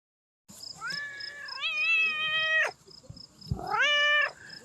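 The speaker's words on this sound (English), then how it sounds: "He's just gonna meow his face off." A cat on a farm meowing loudly and insistently up close, two long drawn-out calls that rise in pitch, the first stretched over about two seconds, separated by a short pause.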